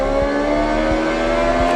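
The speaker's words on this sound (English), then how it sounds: "Third gear pull." A race car engine in Forza Horizon 6 drones loud and steady with a rising tonal whine during a third-gear pull, punctuated by a few low rhythmic thumps as it pulls.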